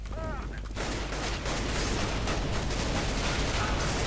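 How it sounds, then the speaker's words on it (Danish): Gunfire crackles in Counter-Strike: Global Offensive as loud, dense bursts of rapid shots, continuous and close, following a short tonal game sound at the start. "Det var mig, der blev skudt på."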